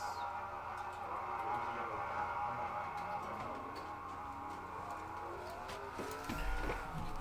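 Race car engines in a sim racing game at Nashville Superspeedway, a continuous high droning whine of several cars with shifting pitch, steady and fairly loud, with a deep thump near the end.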